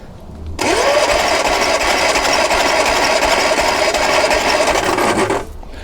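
A Lotus Twin Cam engine cranks with its throttle jammed open. The steady, loud, raspy starter churn runs for about five seconds, then cuts off, with no voices over it.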